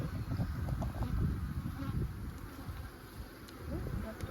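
Bees buzz around an open hive box, a dense, steady drone close to the microphone with some wind noise mixed in.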